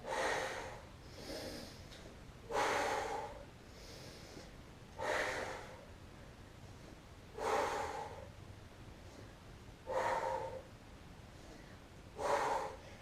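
Heavy rhythmic breaths during an ab exercise with hands behind the head, six strong exhale bursts evenly spaced about every two and a half seconds, close and loud, with no talking.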